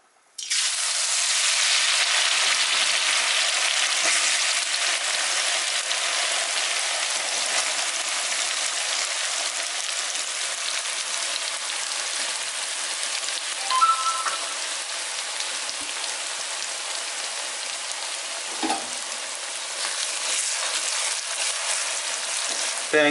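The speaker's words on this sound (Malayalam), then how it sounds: "തേങ്ങ നമുക്ക് നന്നായിട്ടൊന്ന് ചുവന്ന് വരുന്നവരൊന്ന് എണ്ണയിൽ ഒന്ന് ഫ്രൈ ചെയ്തെടുക്കുക." Grated coconut fries in hot oil for a Kerala Payyoli chicken, starting abruptly in a loud, dense, continuous sizzle that holds steady throughout, with a few faint knocks from stirring and no talking.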